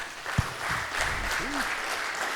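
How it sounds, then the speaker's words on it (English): Brief, moderate applause from an audience at an agricultural sourcing talk in Africa, with a sharp knock near the start and room noise underneath. "Let's give him a round of applause."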